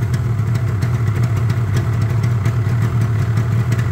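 A Yamaha RD350 LC two-stroke motorcycle with 13k miles idles on choke, a steady close burbling clatter with a low throbbing pulse running without a break.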